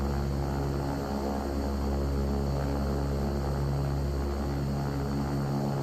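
A Beechcraft King Air 350 turboprop taxiing in the X-Plane 12 simulator gives a steady, loud propeller drone with a low engine hum, holding an even level from start to finish.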